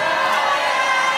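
A live wrestling crowd in Shoeburyness, Southend, roaring loudly and continuously in a hall, a dense wash of cheering and shouting voices.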